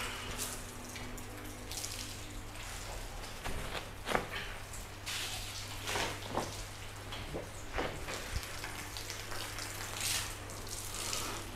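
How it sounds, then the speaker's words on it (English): A car being hand-washed with a wash mitt and soapy water from a bucket, giving continuous wet swishing and splashing with dripping and scattered sharper splashes, close and without talk. "Let's give this a nice quick wash."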